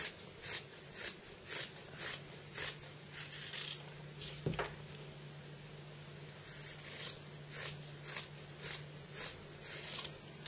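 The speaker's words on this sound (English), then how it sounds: "I'm going to cut it down to about 1/4 inch, but only on those 3 sides where we've sewn." Scissors trim fabric seam allowance on a sewn bag panel, giving a regular series of crisp, close snipping cuts with a short pause midway before the rhythmic cutting resumes.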